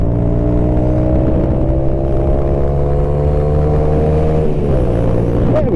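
Suzuki FL125 Address scooter engine holding a steady, droning tone as it pulls through the gears, with a brief dip in pitch partway through like a gear change, continuous and close.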